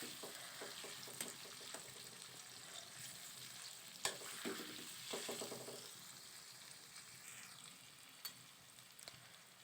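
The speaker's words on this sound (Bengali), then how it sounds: "সুন্দর করে নেড়ে নেব একদম ঘরোয়া পদ্ধতিতে আলুর দম রান্না করা" Potatoes for aloo dum frying in a pan give a steady soft sizzle, broken by a few scraping stirs and a light clink, fairly quiet throughout.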